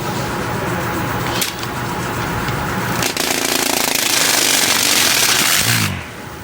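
A homemade wearable handsaw runs loud and continuous as it cuts through paper, a harsh buzzing motor roar with brief dips, stopping abruptly near the end.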